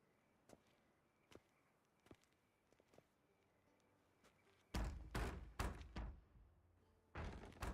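Knocking on a door in The Witcher 3: Wild Hunt on the streets of Novigrad, a few faint isolated taps at first, then a loud burst of heavy, rapid knocks, repeated after a short pause.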